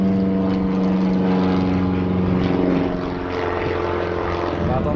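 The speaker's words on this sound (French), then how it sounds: "Ah ok, c'est un avion." A propeller airplane drones steadily overhead outdoors near a Belgian water park, loud and close, with a low humming engine tone throughout and no clear voices.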